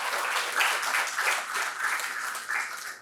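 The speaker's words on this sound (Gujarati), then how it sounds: "આપણે જોરદાર તાળીઓથી વધાવીએ." An audience at a lecture hall talk about the saint Mekan of Kutch gives the speaker a warm welcome with dense, continuous clapping that swells and eases slightly over a few seconds.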